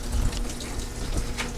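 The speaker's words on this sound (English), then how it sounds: "it fills with just hot water" A direct-drive washing machine fills with hot water, a steady rushing flow with a low hum, close and fairly loud and uninterrupted.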